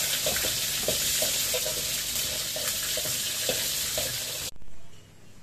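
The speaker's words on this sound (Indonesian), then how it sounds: "Kita goreng sampai kita masukkan cabai rawitnya." Bird's eye chilies and shrimp paste fry in hot oil with a loud, steady sizzle and a few stirring clicks, cutting off abruptly near the end to quiet.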